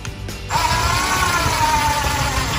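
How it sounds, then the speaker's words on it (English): A power tool, probably a drill driving screws into the top of a DIY wooden wedding column, starts abruptly and whirs loudly and continuously at close range. "Okay, guys, I'm gonna go ahead and screw this on the top."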